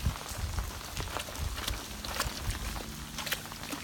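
Steady rain pattering on a surface outdoors where a Great Dane goes swimming, with scattered close raindrop taps and a soft low rumble underneath, constant and moderately loud.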